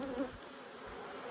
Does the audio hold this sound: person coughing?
no